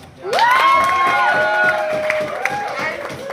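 An audience at a drag roast cheers and applauds for a performer. A rising whoop opens a swell of cheering, then claps and shouts follow at full loudness before easing slightly.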